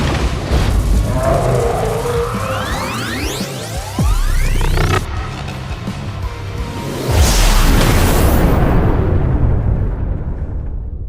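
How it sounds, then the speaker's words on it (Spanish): A dramatic energy explosion in a fantasy audio drama: sweeping whooshes give way to a deep boom and a second loud blast with a roaring, fading rumble, all without any talking. "La explosión de energía se desató con un estruendo ensordecedor."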